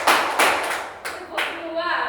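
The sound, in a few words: class clapping in a clapping game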